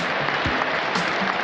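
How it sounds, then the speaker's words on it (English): A rugby crowd applauds steadily, a dense wash of clapping that continues evenly throughout. "And plenty of applause for a popular Springbok visitor"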